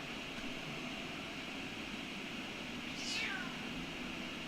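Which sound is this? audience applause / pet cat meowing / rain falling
pet cat meowing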